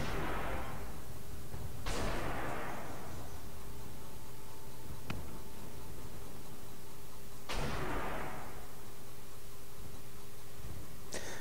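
A VBL armored vehicle fires its rocket launcher in the video game Armored Warfare, with three separate whooshing launches spread over a steady noisy background and a sharp click between them.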